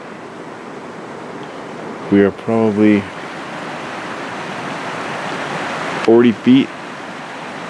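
River water rushes steadily near a backpacking campsite, a broad continuous wash heard close by, with someone speaking briefly over it twice.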